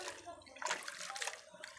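Water sloshes and splashes in short bursts as ghatkol leaves are washed by hand in a basin, moderately close with faint background noise.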